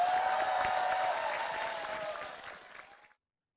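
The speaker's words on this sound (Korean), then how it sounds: "여러분 감사의 박수 한번 보내주십시오" Audience applause at a political rally for a presidential candidate's campaign, a dense, steady patter of many hands from a crowd that holds for about three seconds and then stops abruptly.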